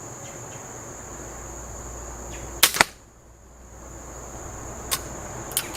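A Benjamin Trail Nitro Piston air pistol fires a pellet: one sharp, close crack with a quick double snap, followed later by two faint ticks, over steady insect buzz outdoors and no talk.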